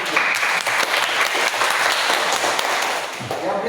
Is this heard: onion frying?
no